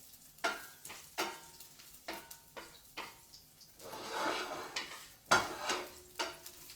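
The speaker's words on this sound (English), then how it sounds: "we've got some garlic sizzling up here" Garlic sizzling in a hot pan, a soft continuous fry punctuated by repeated clinks and scrapes of a utensil against the pan, all fairly quiet with no talking.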